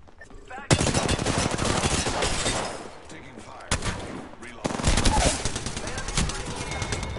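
Automatic gunfire in Apex Legends in long, loud sustained bursts, with a pause before firing resumes. Game voice lines sound alongside the shots.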